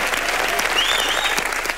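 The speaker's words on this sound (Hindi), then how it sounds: "चलिए हमारे न्यू मैरिड कपल अविनाश और संभावना के लिए जोरदार तालियां।" A studio audience at a televised comedy show breaks into sustained, dense applause for a newly married couple, a steady wash of clapping with faint whoops rising over it.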